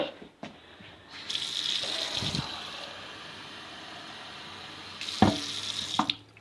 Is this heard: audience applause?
no